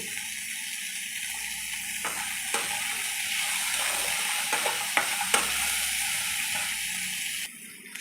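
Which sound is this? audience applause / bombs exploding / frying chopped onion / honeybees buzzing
frying chopped onion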